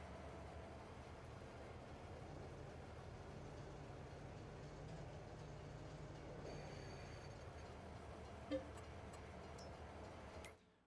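Low steady rumble of a train rolling along in the Farming Simulator game, an even continuous drone with a faint click near the end before it cuts off.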